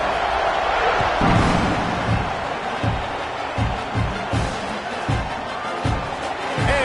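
A college football stadium crowd roars at kickoff as a loud, dense wall of cheering, with rhythmic thumps pulsing steadily beneath it.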